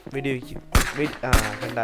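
Two sharp, loud gunshots crack about half a second apart amid game sounds, with a voice speaking between them.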